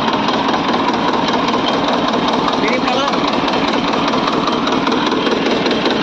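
A Tafe 25 DI tractor engine, just rebuilt with a full engine job, runs steadily at close range, a loud continuous diesel rumble with a fast even beat throughout.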